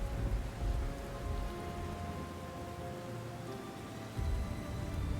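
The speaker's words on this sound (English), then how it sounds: "Hold on, it's raining right now." Steady rain pours down in the PSO2 NGS game world, a dense, even hiss of falling drops with faint low rumbles beneath, and no voices.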